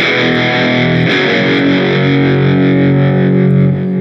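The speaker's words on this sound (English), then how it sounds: "it's creating a power chord where there's really no major or minor quality to it" A heavily distorted electric guitar power chord rings out loud and sustained, thick and buzzing, with a brief restrike partway through.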